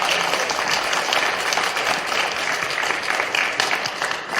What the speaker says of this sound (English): can we give them a round of applause before the question starts?